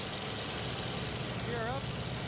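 A TBM Avenger's radial piston engine drones in steady flight just after takeoff, a continuous broad roar heard from inside the aircraft, with a brief voice over the noise.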